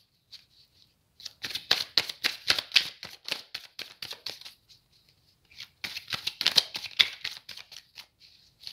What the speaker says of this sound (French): Je prends 3 cartes.